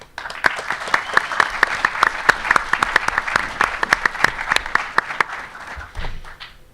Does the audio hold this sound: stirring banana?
no